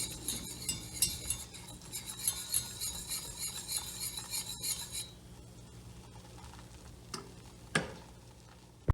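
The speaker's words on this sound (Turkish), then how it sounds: "Unumu da kavurdum." A heaping spoonful of flour toasts in melted butter in a pan, with soft scraping and light ticking clinks from stirring. The sounds are quiet and close, with no talking.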